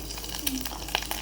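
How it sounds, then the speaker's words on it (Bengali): Oil spits and sizzles in a pan during frying, a steady close crackle with a few sharp pops over about a second. "এ তেল ছিটতেছে নাকি?"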